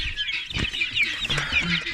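A chicken clucking up close during a morning release of poultry, a quick run of short, busy clucks and chirps over two seconds.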